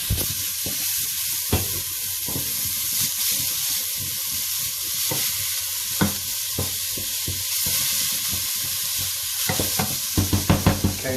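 Chopped onions sweat and sizzle in a pan for seafood chowder, a steady frying hiss broken by scattered utensil scrapes and stirring taps, with a quick cluster of clicks near the end.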